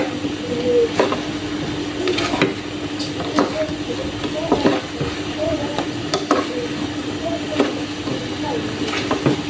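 Boiled cassava and sweet potato are stirred with sugar in a pan over a low flame, giving steady soft scraping and shuffling strokes with occasional sharper knocks of the utensil, close and continuous with no talk.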